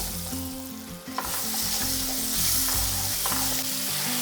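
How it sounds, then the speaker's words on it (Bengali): Chopped onions hit hot oil with a loud, steady sizzle and hiss while frying with fish roe, stirred now and then with scraping clanks from a utensil. "ঠিক এই সময় দিয়ে দিচ্ছি কুচি করে রাখা পেঁয়াজ।"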